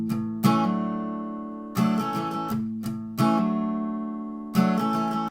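A guitar plays the second half of a song's intro, sounding four ringing strummed chords with quick picked notes between them, close and moderately loud with no voice.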